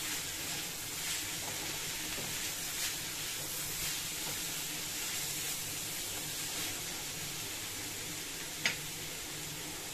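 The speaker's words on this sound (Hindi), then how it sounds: "सब्जी अच्छे से फ्राई हो चुकी है।" Vegetables for Indo-Chinese veg chopsuey fry in a pan with a steady, even sizzle and hiss, fairly quiet and unbroken, with one brief sharp tick near the end.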